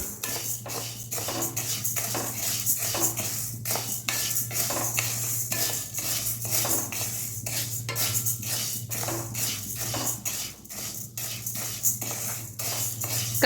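Dry-roasting ingredients for murukku in a pan, with a spoon scraping and stirring in a steady, repeated rhythm, close and clear over a low constant hum.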